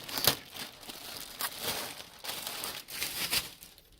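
Close, crisp crinkling of a plastic bag being handled, with bursts of rustling and a few sharper crackles throughout.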